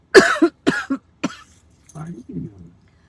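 A person coughs several times in quick, harsh bursts, then follows with quieter throaty clearing sounds, close to the listener with no other noise.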